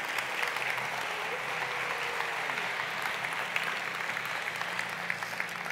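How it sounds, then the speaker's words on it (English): Steady, sustained audience applause fills the room at an event celebrating young children and their families, a dense even wash of clapping from many hands at moderate loudness throughout. "Can we just give them a round of applause?"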